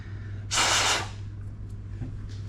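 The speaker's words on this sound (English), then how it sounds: "Small spray of Simple Green." One short, close hiss of Simple Green cleaner sprayed from a bottle onto gauze while servicing the oxygen inlet valve of a JJ-CCR rebreather, heard over a steady low background hum.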